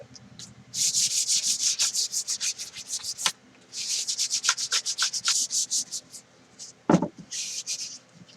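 Steady rasping strokes of sandpaper on a wooden gun stock, close by, in repeated bursts with brief pauses and a single sharp knock near the end.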